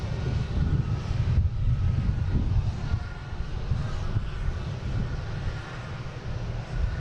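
A Bombardier Challenger 300 business jet rolls out after landing at Boston Logan, its engines giving a steady low rumble with some wind buffeting, fading slightly toward the end.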